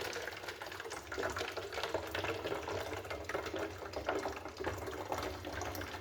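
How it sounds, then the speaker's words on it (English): Warm water poured slowly into a bottle, a steady bubbly gurgling stream that runs continuously, close and moderately loud, with no one talking over it. "Guess I have to pour this one a little slower."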